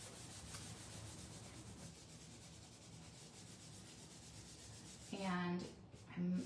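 A sponge dabbing and rubbing paint onto a surface, a steady soft scrubbing texture close up, followed by a couple of brief louder bumps near the end.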